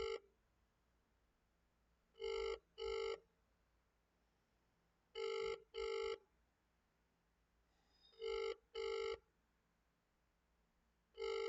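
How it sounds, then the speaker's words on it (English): Telephone ringback tone while calling an MP's office: three pairs of double rings, each pair a quick burst-burst, separated by silent gaps of about three seconds, clear and alone on a quiet line. "I'm ringing the MP office right now."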